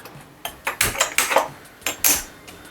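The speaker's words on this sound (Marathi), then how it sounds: "आता मी ही स्टीलची कढई घेतली आहे" Irregular metallic clanks and scrapes of a steel kadhai (wok) being moved and set down on a gas stove, several sharp knocks close by with short pauses between, no talking.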